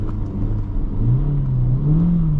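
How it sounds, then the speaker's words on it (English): A Honda Civic engine revs up with wheels free spinning in snow, a loud close rising engine drone that climbs steadily in pitch inside the cabin. "If I turn it off and put it in first, it'll let me free spin as much as I want."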